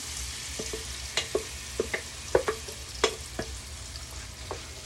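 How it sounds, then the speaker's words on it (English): A spoon scrapes and taps irregularly around a pan as lime is stirred into butter that sizzles softly beneath the strokes. "I'm gonna stir it."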